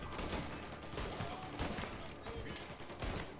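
Repeated gunshots in the Mafia remake video game, a dense run of loud bangs at an irregular rhythm, close up and layered over game noise with occasional voice.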